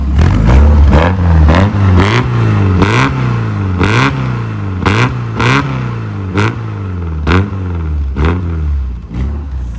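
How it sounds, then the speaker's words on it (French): Porsche 944 with a stainless exhaust line idles and is blipped, the four-cylinder engine rising and falling in a loud, near rhythm of revs with a throaty exhaust note and no talk. "ça fait un bruit de 944 normal"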